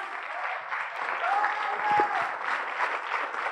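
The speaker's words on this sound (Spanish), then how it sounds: "para que quede bien grabado ese aplauso" Sustained applause from a church congregation during a sermon, a steady dense wash of many hands clapping, swelling slightly midway, heard alone without talk.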